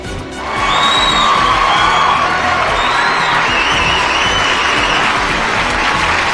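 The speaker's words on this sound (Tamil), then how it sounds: "மாண்புமிகு முதலமைச்சர் அவர்களுக்கு நம் அத்துணை பேருடைய அன்பின் வெளிப்பாடாக பலத்த கரவொலியின் மூலமாக அவர்களுக்கு வரவேற்பினை தெரிவித்துக் கொள்வோம்" A large crowd at an official welcome for the Tamil Nadu Chief Minister bursts into loud, sustained applause mixed with cheers and whoops, swelling within the first second and holding steady to the end.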